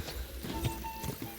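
Horse hooves clip-clopping in Kingdom Come Deliverance 2, a steady run of moderate hoof beats over a dense game ambience.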